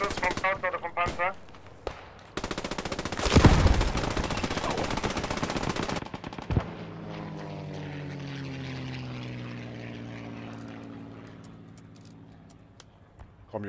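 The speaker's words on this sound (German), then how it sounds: "Nee, immer noch ein Beschuss vom Scout oder vom Panzer." Heavy gunfire from a scout or tank in the WWII shooter Post Scriptum, with rapid bursts and a loud dense volley, then a propeller aircraft engine droning and slowly fading. Some voice chatter comes through early on.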